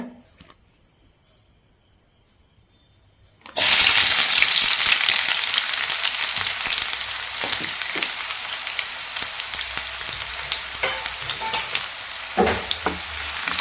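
Onions tip into hot oil for ghee rice after a few seconds of near silence, then burst into a loud, dense, steady sizzle with crackles and spatters, close and uninterrupted.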